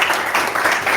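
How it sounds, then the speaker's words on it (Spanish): Brief burst of audience applause at an e-commerce talk, a dense, even crackle of many hands clapping close by, steady and loud for about a second. "aplauso, por favor,"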